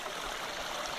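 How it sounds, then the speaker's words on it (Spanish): Mountain spring water flows at a volcano base camp, a soft continuous rush and trickle of a small stream heard close and faint, with no voices. "desde esta vertiente nos proveemos de agua"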